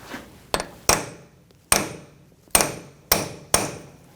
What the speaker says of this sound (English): take a punch and just peen over the nut, just where the little cutouts are on the axle. Just give it a couple taps